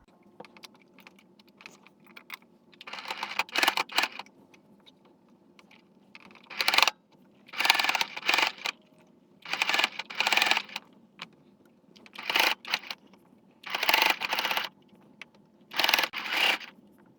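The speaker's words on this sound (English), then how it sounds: "Just gonna sew around the edges." A sewing machine stitches around the neckline edges of a dress converted from palazzo trousers, running in about eight short bursts of rapid whirring with pauses between, fairly quiet and close, with no talking.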